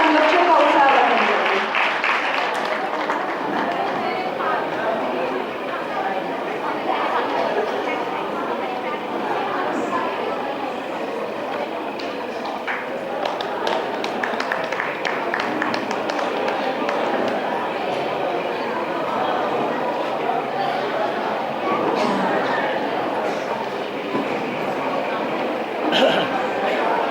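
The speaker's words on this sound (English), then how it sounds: "Please give her a big round of applause" Applause for a student at a school annual day, a steady crowd of clapping with a reverberant hall sound and voices talking over it.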